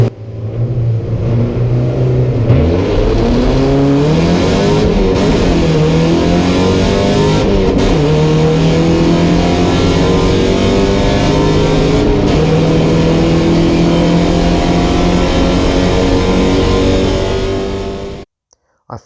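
Porsche 944 race cars roar loudly on track, one engine held on the rev limiter in a sustained buzzing drone with rising and falling pitch sweeps from other cars, before the sound cuts off abruptly near the end.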